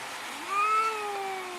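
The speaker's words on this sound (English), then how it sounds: "we might get a cat fight" A stray cat lets out a single drawn-out, rising and falling yowl, close and fairly loud over a soft steady background hiss, the kind of growling moan heard before a cat fight.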